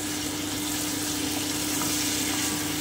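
Mixed winter vegetables for a Bengali chorchori sizzle in a pan, a dense continuous hiss at steady loudness close by, with no talk.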